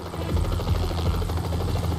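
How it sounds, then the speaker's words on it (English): A helicopter in the Asphalt Street Storm drag racing game gives a close, continuous rotor thump with a low engine drone, steady and unbroken for a couple of seconds. "Helicopters, bro?"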